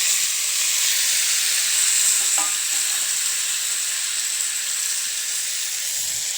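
Jackfruit pieces fry in hot oil with a steady, bright sizzle and hiss that carries on throughout without pause; no one speaks.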